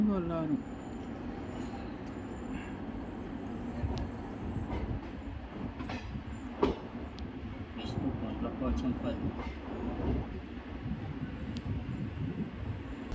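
Steady rumble of a passenger train running on tracks, heard from inside with rhythmic clicks and rattles, while a voice speaks over it.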